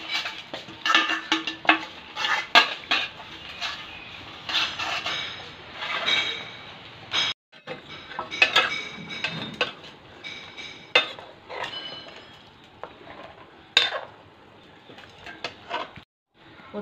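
A metal mixing bowl is handled while being greased with ghee, giving a run of irregular clinks and scraping taps, some sharp and close, with short pauses between.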